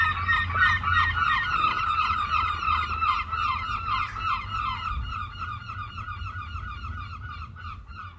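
Herring gulls call loudly and continuously, a raucous, overlapping chorus of honking cries from several birds close by, with no speech.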